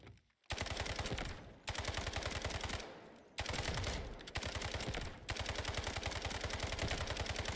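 A customized rifle fires on a firing range in Delta Force. It lets off four long, loud automatic bursts of rapid, evenly spaced shots, each broken by a brief pause, with no talking.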